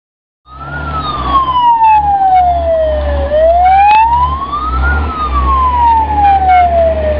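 A fire engine siren wails loudly and nearby, rising and falling in slow sweeps over a steady engine rumble, as fire trucks carrying water and foam head to a fire.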